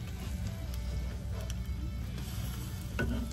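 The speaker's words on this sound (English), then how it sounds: "Let's flip this pancake and see how we're doing for evenness." A pancake frying on a new RV griddle, with a steady close sizzle and a brief scrape and slap near the end as it is flipped.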